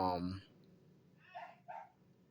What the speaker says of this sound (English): My sister dog barking